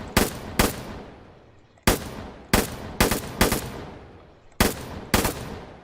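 An M249 machine gun fires in the game Firefight in short bursts of two or three loud, close, sharp shots, each blast trailing off with a ringing decay before the next burst.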